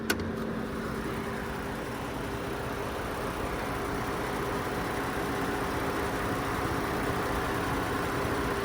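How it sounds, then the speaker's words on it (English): A 2021 Ford Bronco with the 2.7L EcoBoost engine idles steadily and close by, a smooth continuous hum with faint harmonic tones and no voices. "let's just listen to the engine real quick"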